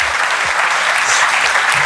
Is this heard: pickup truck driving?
no